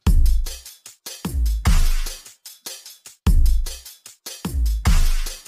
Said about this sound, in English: So I pulled up some loops and just threw together a quick beat and just to match it up against the